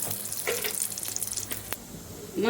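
Chana dal, cumin and mustard seeds fry in oil in a kadai, giving a steady close crackling sizzle with scattered pops and a louder burst at the end.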